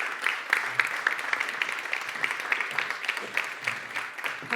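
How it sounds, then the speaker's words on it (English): An audience applauds at an award ceremony for a women-in-science prize winner, dense sustained clapping at moderate volume with a few louder claps, continuing evenly without talk. "A warm applause for Linda El Hassani."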